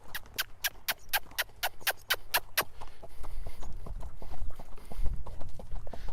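Hooves of a horse being led in hand clip-clop in a quick, steady rhythm of about a dozen close, crisp strikes, then give way to softer shuffling and background noise.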